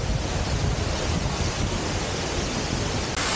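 Shiraito Falls near Mount Fuji pours in a steady, dense roar of falling water, broadband and unbroken, close and loud with no voices over it.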